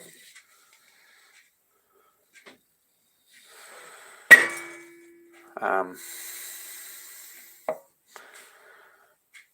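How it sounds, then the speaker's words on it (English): A small metal hammer is handled in a machine shop, giving a single sharp ringing clang with a short sustained tone, then a few softer knocks and clatters amid quiet handling noise. "It's a nice little hammer."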